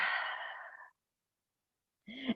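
One long, steady exhale released all the way out during a yoga stretch, close and breathy, then a pause of silence before a voice starts to speak.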